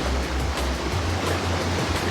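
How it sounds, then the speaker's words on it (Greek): Tsunami waves rolling through the video game Escape Tsunami for Brainrots, a steady loud rushing surf-like wash with a low pulsing rumble underneath, continuous throughout with no talking. "Περνάτε κύματα λίγο πιο γρήγορα."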